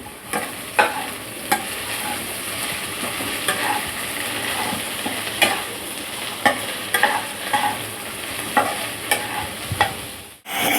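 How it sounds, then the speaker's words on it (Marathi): Okra (bhindi) fries and sizzles in a pan while a utensil stirs it, with repeated scraping clicks standing out over a steady hiss; no one speaks. "भेंडी छान फ्राय करून घेतली म्हणजे भेंडी चिकट होत नाही"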